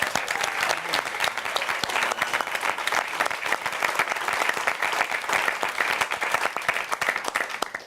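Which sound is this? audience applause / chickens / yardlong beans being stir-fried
audience applause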